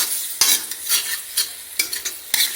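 Chopped tomatoes stirred into a hot pan for egg curry, giving a steady sizzle broken by several sharp scraping stirs, close and fairly loud, with no talking.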